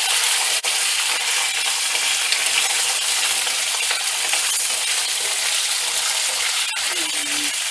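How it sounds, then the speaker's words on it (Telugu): Cut drumstick pieces being mixed in a pan give off a steady, close sizzling hiss with faint scraping of a utensil, holding at an even level throughout, broken by one sharp tap near the end. "అన్నీ వేసి ఇట్లా కలుపుదామండి"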